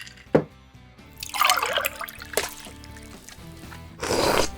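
Wine pours at Erie Wine Cellars in steady liquid splashes and gurgles, with a sharp clink near the start and a louder rush of pouring at the end, close and clear.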